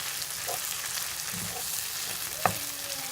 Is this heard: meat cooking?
yes